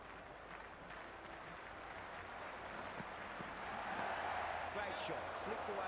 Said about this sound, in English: the crowd is at near bursting point at today's play